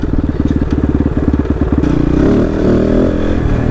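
A Kove Dakar rally motorcycle revs loud and close. A rapid, pulsing engine beat swells into a rough, rising roar with some clatter.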